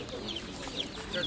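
Hens cluck in brief bursts at a pigeon and poultry fair in Severodonetsk, a couple of short calls rising over low crowd murmur and distant voices.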